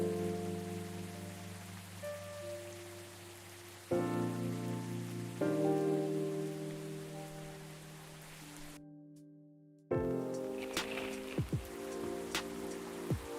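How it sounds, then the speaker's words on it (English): Steady rain patters outside a café in the video game Coffee Talk, set in Seattle, as a soft continuous hiss under gentle instrumental music, with a brief drop-out partway through. "It's always raining in Seattle?"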